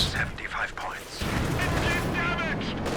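Katyusha rocket artillery salvo in Company of Heroes 2, a dense rumbling barrage of launches and impacts running continuously under a commentator's voice.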